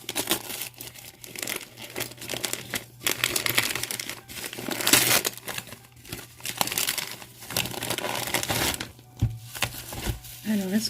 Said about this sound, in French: il y a du papier bulle